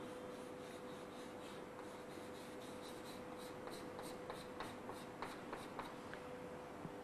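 A pen scratches steadily on paper while a diagram of a fibrous protein membrane is drawn by hand, a faint, close rasp of continuous strokes under a low hum.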